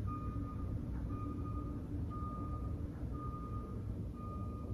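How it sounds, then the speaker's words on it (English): Reversing alarm of a garbage truck heard from indoors: a steady series of evenly spaced single beeps, moderately distant, over a low engine rumble, with no talk. "Garbage truck number 3 or 4."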